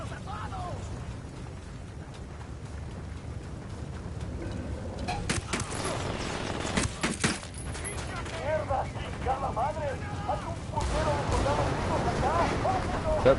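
A C4 charge detonates in Ghost Recon Wildlands: a sharp cluster of broadband blasts around the middle, then rumbling debris and crackle, with game noise running throughout and voices talking over it.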